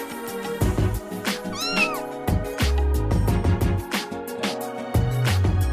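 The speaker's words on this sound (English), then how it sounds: "Cat. C-A-T, cat. It makes the sound meow." A cat meows once, a short rising-falling cry heard over a bouncy musical backing with steady percussion.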